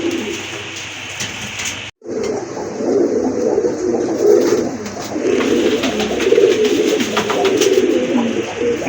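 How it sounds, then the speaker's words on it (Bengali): Sky-blue Rajgolla pigeons coo steadily in soft, overlapping murmurs that continue close by throughout, with a brief silent gap near the start. "একজন আকাশি কালার ভিতরে রাজগোল্লা কবুতর, খুবই অ্যাক্টিভ কবুতর।"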